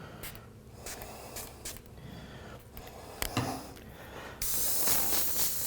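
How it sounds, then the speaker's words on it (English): An airbrush sprays paint onto a biomechanical skull. After a few seconds of faint, quiet background, a steady close hiss starts and continues to the end. "Maybe I'll spray it one more time."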